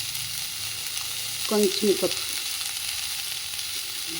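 Onion and tamarind frying in a pan, a steady fine sizzle throughout with a brief murmur of speech in the middle.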